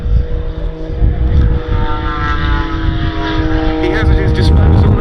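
A Pitts S-2S aerobatic plane with a 300-horsepower 8.5-litre six-cylinder Lycoming 540 engine at the Duxford summer air show, its propeller drone loud and steady with shifting pitch, while a commentator talks over it.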